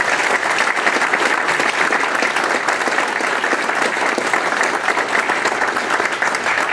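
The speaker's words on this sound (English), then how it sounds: "Let's give these guys a big round of applause." Steady, dense audience applause at a school awards ceremony, filling the room evenly for several seconds without a break.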